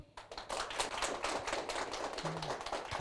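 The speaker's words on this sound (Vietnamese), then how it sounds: "mọi người cho một tràng pháo tay" A short burst of dense audience applause at a group presentation in a training class, steady crackle of many hands, moderately close.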